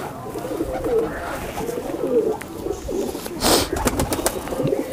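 Male golden pigeon cooing close by, soft repeated low coos in a gentle rhythm over a rustling background, with faint voices murmuring nearby.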